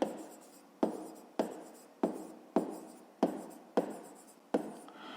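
Pen strokes on paper as math working is written out by hand, a quiet, close scratching in a steady rhythm of about eight short strokes.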